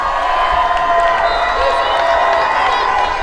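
Crowd noise at a high school football game, a steady roar of cheering and shouting from the stands held at a constant level throughout.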